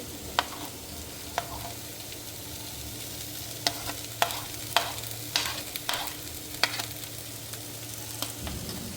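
Ginger and garlic sizzle in a hot pan while a spoon stirs them, producing a steady fry with sharp metallic scrapes and clinks at irregular intervals.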